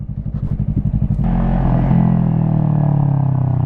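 A 2016 Yamaha YZF-R3 motorcycle being ridden, its engine first pulsing in quick rhythmic chugs, then opening into a loud, smooth, sustained drone close to the microphone.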